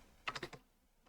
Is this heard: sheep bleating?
no